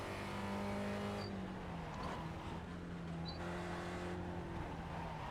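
A Spec Racer Ford race car in iRacing at Sebring holds a steady, droning engine note with gear-like pitch shifts, continuous and fairly close throughout.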